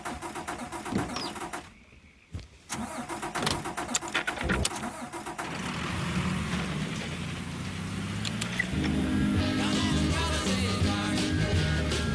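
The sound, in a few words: car engine starting in Mafia 3 video game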